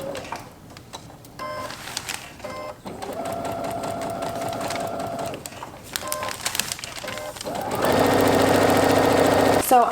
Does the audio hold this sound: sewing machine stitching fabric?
yes